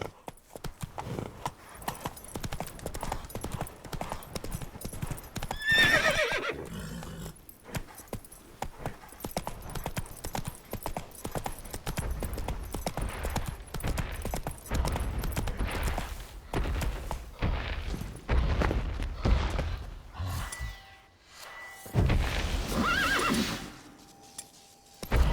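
Horse from The Witcher 3 galloping with rhythmic clip-clop hoofbeats and loud whinnies and neighs breaking through, close and fairly prominent with game ambience around it.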